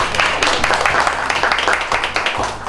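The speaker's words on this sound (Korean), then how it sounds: "박수 한번 부탁드립니다" An audience claps for a young university student being introduced at a human rights gathering: a steady, dense patter of applause with a low hum underneath, sustained throughout.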